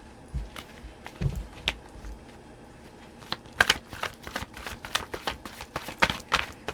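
Tarot cards are shuffled close up, giving a continuous run of papery riffles and sharp flicks that grow busier and louder toward the end, with no voices.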